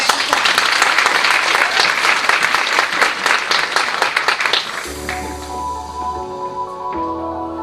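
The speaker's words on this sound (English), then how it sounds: "Clap up for her as she comes." A crowd at a women's history month symposium bursts into loud, dense applause that carries for about five seconds, then gives way to sustained music with a low bass tone under a thinning patter.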